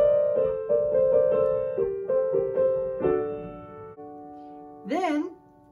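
Solo piano plays the Howl's Moving Castle theme at full speed as a simple melody over chords, a steady run of struck notes that pauses briefly before a single low note sounds near the end.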